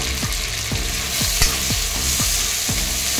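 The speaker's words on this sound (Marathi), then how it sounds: "या तळलेल्या टोमॅटोमध्ये मी कोथिंबीर, आले आणि लसूण हे देखील मी परतून घेणार आहे" Coriander, ginger and garlic sautéing with fried tomatoes in oil for prawn masala, a loud steady sizzle with rhythmic spoon strokes scraping the pan roughly every half second.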